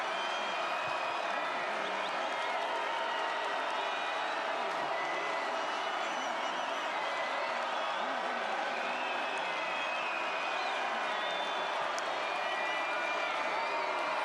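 Stadium crowd at a Marshall Thundering Herd vs James Madison Dukes college football game roars steadily and loudly throughout, a dense sustained wash of cheering with no pauses.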